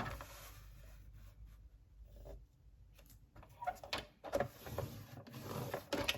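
A scoring tool is drawn along paper to crease fold lines for a paper wardrobe, giving faint soft scratchy strokes in a few short runs against a quiet room, growing slightly busier toward the end.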